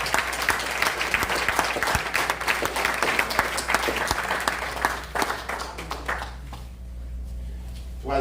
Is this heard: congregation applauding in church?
yes